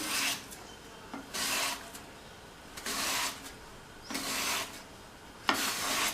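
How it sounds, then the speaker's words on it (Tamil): Raw plantain pushed back and forth across a chips slicer, with five rhythmic rasping strokes separated by short pauses, close and fairly quiet. "ஒரு சிப்ஸு சீவுறதில் வச்சு சீவிக்கலாம். வாழைக்காயை இப்படி பிடிச்சிட்டு"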